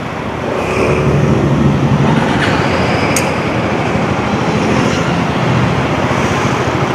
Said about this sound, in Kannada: ಫಸ್ಟ್ ಟೈಮು ಗಾಡಿ ಮೂವ್ ಮಾಡ್ತಾಯಿದ್ದೀನಿ